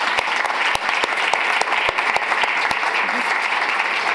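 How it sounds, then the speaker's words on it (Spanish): Loud, close applause from the audience at a regional technical dialogue on prison management, thanking a panel of experts, a dense steady clapping with several sharp individual claps standing out nearby. "Por favor, un fuerte aplauso para todos ellos."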